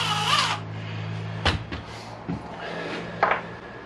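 An impact wrench takes the rotor off a 1998 Kawasaki ZX9R motorcycle engine, a short loud buzzing burst at the start, followed by a few sharp mechanical clanks and taps close by.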